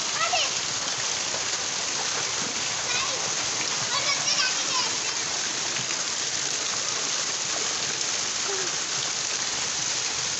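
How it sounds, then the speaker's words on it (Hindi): Heavy downpour flooding a residential street, a dense, constant hiss of rain with splashing water close by, while an adult and children talk over it. "ये देखें पूरी गली बारिश से फुल है"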